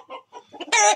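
A chicken gives a few soft, low clucks, then a brief loud squawk at the end, close up and heard alone.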